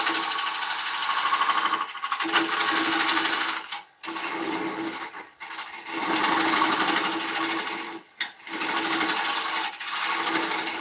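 Woodturning lathe tidying the tenon on an oak live-edge winged bowl, a steady scraping hiss of the tool on spinning wood broken by several brief pauses.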